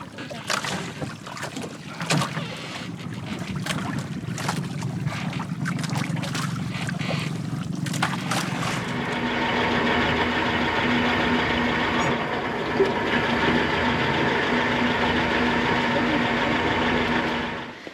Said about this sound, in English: Well, the motor got fixed